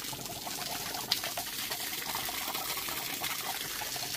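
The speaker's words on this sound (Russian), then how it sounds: "Вода течет." Water flows through a pipe after an electric pump is switched on, a steady gushing and hissing rush with a faint click near the start, continuous and fairly quiet.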